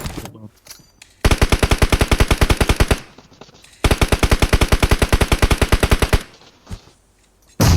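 Two long bursts of automatic rifle fire from the game PUBG pound out in evenly spaced, rapid shots, loud and up front, separated by a brief pause and followed by quieter game sounds.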